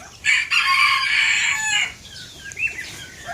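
A male golden pheasant gives one loud, drawn-out crowing call lasting over a second, close by, followed by a few softer, short clucking notes.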